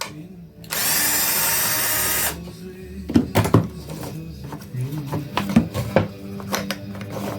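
A power screwdriver runs in one long steady burst while driving screws into an assembly, followed by a series of sharp clanks and knocks as parts are handled and fitted together close by.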